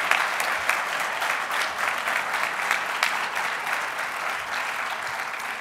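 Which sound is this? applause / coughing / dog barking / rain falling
applause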